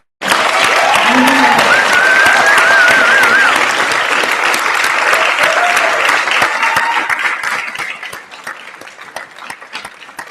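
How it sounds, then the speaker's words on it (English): A class claps loudly and energetically for several seconds, then the applause gradually thins out and fades toward the end with scattered claps. "We will all clap so big."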